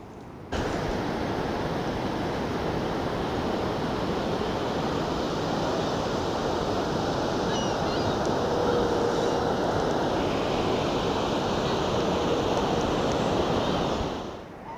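Ocean surf at Second Beach on the Olympic Peninsula near La Push, a continuous broad roar of breaking waves mixed with wind, steady and full from start to finish with no voices.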